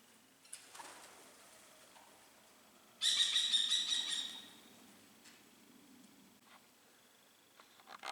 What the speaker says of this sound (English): Can you hear that kestrel there in the background?